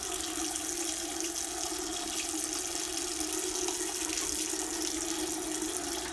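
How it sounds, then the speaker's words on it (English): Tap water runs steadily into a sink as hands and wrists are rinsed, a constant close splashing hiss that lasts the whole clip with no talk. "Rinses all surfaces of hands and wrists, being careful not to touch the sink."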